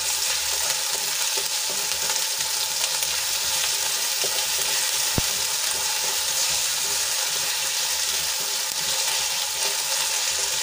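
Ginger, garlic and chili paste sautéing in hot oil with onions, a steady close sizzle and crackle running throughout, with a single sharp tap partway through.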